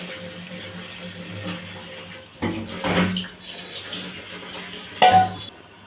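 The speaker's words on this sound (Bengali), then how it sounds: "বাটি ধোয়া জলটাও দিয়ে দিচ্ছি" Water poured from a rinsed bowl into a mustard-paste curry of egg and pointed gourd, a few short splashy bursts over faint kitchen background noise.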